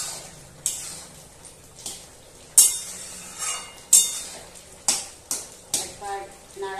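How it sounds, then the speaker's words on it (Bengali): A spoon scrapes and clinks against a pan while pumpkin curry is stirred and mixed, giving a string of irregular metallic knocks and scrapes at close range with a faint sizzle beneath. "একবার নাড়াচাড়া করে মিশিয়ে নিচ্ছি।"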